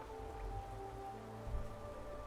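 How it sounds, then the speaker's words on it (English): Steady rain patters in an underground city in the video game Hollow Knight, a continuous soft hiss with a low ambient hum and musical drone beneath it. "like the rain, like the pitter patter of the rain"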